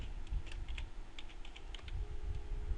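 Keys clatter on a computer keyboard in short, irregular bursts of quiet taps, fairly close and soft, with no talking over them.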